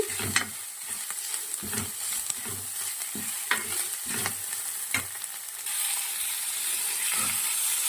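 Ginger garlic paste and tomato fry for a taro curry, a spoon scraping and stirring in rhythmic strokes over a steady sizzle that swells louder in the last few seconds.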